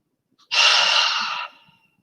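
A single deep inhale during a yoga class, a close, loud breathy rush of air held for about a second before fading out, with no talk over it.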